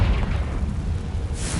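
A Confringo fire spell explodes in Hogwarts Legacy, a deep rumbling boom that rolls on steadily with low heavy energy, then tapers off toward a brighter hiss at the end.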